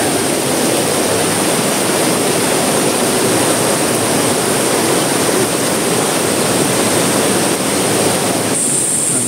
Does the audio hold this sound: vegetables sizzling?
no